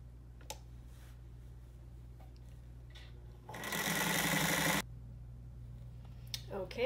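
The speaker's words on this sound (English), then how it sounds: "Okay, so I've sewed this together and I've pressed it." A sewing machine stitches quilt fabric pieces together in one steady, loud burst of about a second and a half, with quieter handling sounds before and after.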